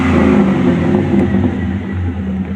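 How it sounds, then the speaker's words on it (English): A Chevy Silverado 1500 fitted with a Cherry Bomb Vortex muffler runs loud and close, its deep engine note rising in short revs and then settling back to a throaty rumble. "give it quick rev ups"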